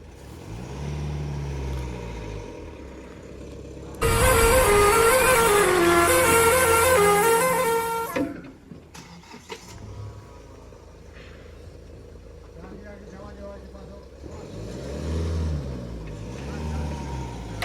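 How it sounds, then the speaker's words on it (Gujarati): A car pushes a farm tractor whose battery has died, with low engine rumble and a burst of loud horn-like tones in the middle, while people talk throughout. "હવે અમે લોકો ગાડીથી ધક્કો મારીશું."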